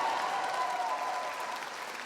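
An audience at a state house rally in the Gold Dome applauds its speakers, sustained crowd clapping that is steady and full, fading slightly toward the end.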